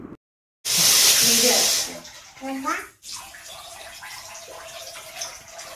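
Water gushes loudly from a tap while a 19-month-old baby girl is bathed, a hissing stream that cuts off after about a second, followed by a baby's vocal sounds and quieter splashing and drips.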